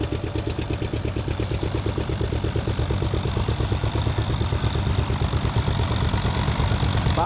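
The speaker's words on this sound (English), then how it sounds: "Behind Doug is a 1955 Massey Harris 44 Special, owned by Les Kleckner, being driven by Dirc" A 1955 Massey Harris 44 Special tractor engine chugs steadily nearby, a loud, even low-pitched putter with a regular rhythm throughout.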